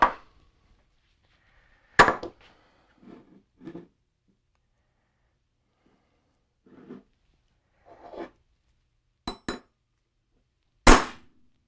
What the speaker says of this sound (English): I hold the cable in while I bang it. So you use a hammer